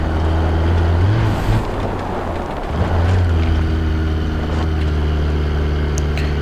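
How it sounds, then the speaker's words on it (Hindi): Simulated car engine labouring at steady revs on a steep off-road climb in BeamNG, a continuous loud droning hum with slight surges, without voices. "इंजन तो जोर लगा रहा है, ट्रर अटकी हुई है"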